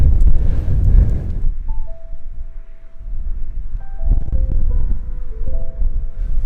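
Strong wind on a hilltop buffets the microphone in heavy gusts, with a few faint thin tones drifting in the background.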